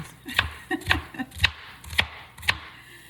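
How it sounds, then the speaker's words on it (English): A knife slices onion halves into half-moons on a cutting board for plant-based wraps, giving about five crisp, close chopping strikes at a steady pace with softer taps between them. No one speaks. "I'm going to slice these a little bit because, like I said, I don't want chunky vegetables."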